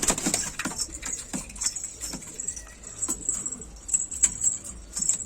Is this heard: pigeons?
yes